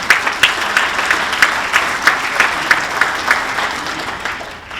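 Audience applause at a sports hall of fame induction ceremony, honoring a sponsoring company; steady clapping from a sizable crowd with a few louder claps standing out, fading slightly toward the end.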